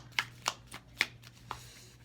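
Three tarot cards drawn from a deck, a quick series of crisp card snaps and slides, about five short bursts over two seconds, close and fairly quiet with a low steady hum behind and no talking.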